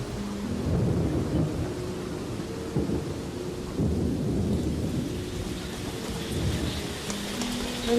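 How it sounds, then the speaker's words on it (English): Afternoon rain shower over a forest bay where gorillas gather, steady rain hissing on leaves and ground while low thunder rolls in several long rumbles, distant and continuous, with no voices. "An afternoon shower diffuses the tension."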